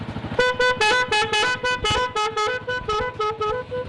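Horn of a locally assembled vehicle blaring in a rapid series of about a dozen short, loud, close honks, pulsing in an uneven rhythm.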